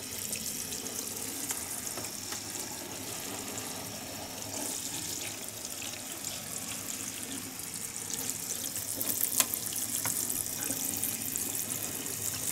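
Water showers from above onto potted cacti and succulents, a steady soft hiss and patter of spray that runs continuously throughout, fairly faint with no talk.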